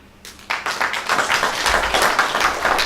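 Conference audience at Kibabii University bursts into applause, a dense burst of many hands clapping that starts abruptly and holds steady, fairly close and loud.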